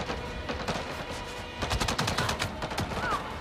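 Enemy gunfire erupts in the Avatar Frontiers of Pandora video game: dense bursts of rapid shots crackle from all sides, growing heavier in the second half, with no talk over them.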